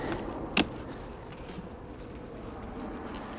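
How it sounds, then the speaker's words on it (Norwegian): Honeybees buzzing around an open beehive during work to prepare it for wintering, a steady close drone throughout with one sharp click near the start. "Ser ut til å være greit med bier."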